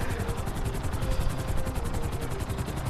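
A helicopter flies in the game GTA 5, its rotor giving a steady, loud, rapid chop over a dense mechanical drone for the whole stretch, with no talk.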